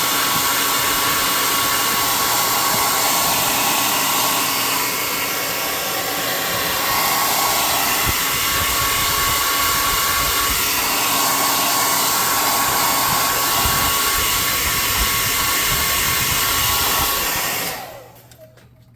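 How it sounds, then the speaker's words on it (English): An air gun blows on a hobby model hovel, a loud continuous hissing rush of air that holds steady for many seconds and cuts off abruptly at the end, with no voices. "We want to hit this with an air gun"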